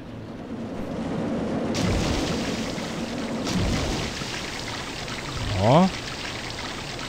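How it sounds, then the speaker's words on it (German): Water ride in the RollerCoaster Tycoon 3 video game, with a steady splashing and trickling wash that runs on continuously, moderately loud, with a brief rising swoosh near the end. "das plätschert jetzt durchgängig"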